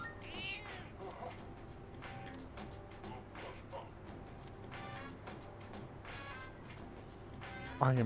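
A cat meowing in the video game Persona 3 Reload, several short high mews scattered across the clip over quiet game background sounds, fairly close and without talk.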